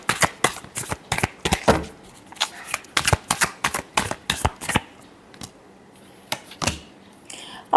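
Tarot cards are shuffled close up in quick, rhythmic riffling bursts, a steady run of crisp flutters that thins into a few sparse slaps toward the end.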